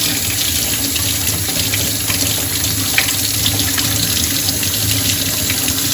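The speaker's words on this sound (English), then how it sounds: "I'm using a bit of warm water here." Warm water runs from a kitchen tap in a steady, loud, close stream while a lemon is washed under it. No voices.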